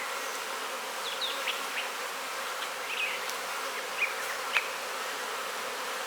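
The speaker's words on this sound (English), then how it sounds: "They're starting to fan, and all these bees you see flying will return back to this mother colony here." Honey bees fanning and flying around the hive of a small split colony, a steady close buzzing drone filling the space, with occasional individual bees whizzing past the ear.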